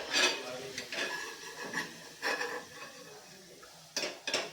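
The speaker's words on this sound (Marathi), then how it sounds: "आता ही सगळी भजी गॅस बंद करूयात आणि ही सगळी भजी एका टिश्यू पेपरवर काढून घेऊया" Fried crispy onion bhajis lifted out of a pan with metal utensils onto tissue paper, with scattered clinks and scraping taps close by, a few sharper knocks near the end.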